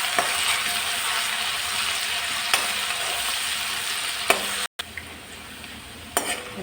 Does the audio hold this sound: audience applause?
no